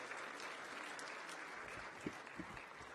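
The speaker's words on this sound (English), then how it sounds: "Can we give a big round of applause to everybody who has shared and spoken?" At the African Leadership Forum in Kigali, a forum audience applauds the speakers with continuous, full-room clapping that holds steady and fairly even for the whole stretch.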